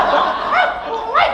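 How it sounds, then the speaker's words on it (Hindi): A performer on stage in a comedy play gives short, yelping dog barks with his voice, two quick rising bursts standing out over a lively room. "ये आवाज ये कुत्ता भौंक रहा है"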